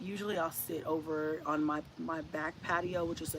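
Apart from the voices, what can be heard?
No distinct noise like a dog, phone or traffic.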